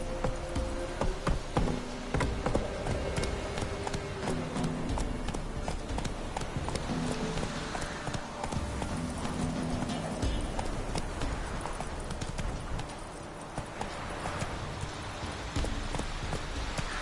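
Roach, a horse in The Witcher III, gallops with quick, continuous hoofbeats thudding under a busy layer of game ambience and music, steady throughout without pauses.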